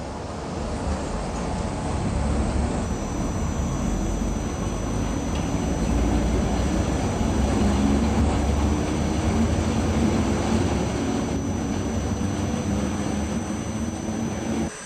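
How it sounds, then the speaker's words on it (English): A Bluebell Railway electric train stands ready to leave Horsted Keynes for Haywards Heath, its low steady rumble and hum holding evenly throughout with a faint high whine, no voices. "the electric train about to depart for Haywards Heath"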